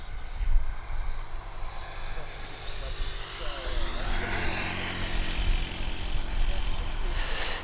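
A Cessna 406 Caravan propeller aircraft passes overhead at an East Midlands Airport airshow, a steady broad engine drone holding throughout with faint voices underneath.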